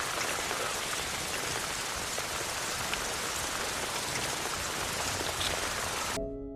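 Heavy rain pours down steadily in a dense, even wash of drops on surfaces, holding constant loudness with no voices before cutting off abruptly near the end.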